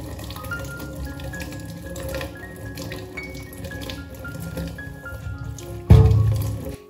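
New potatoes being washed under a running kitchen tap, a steady close stream of water with faint clinks, ending in a sudden louder gush as the flow hits the sink.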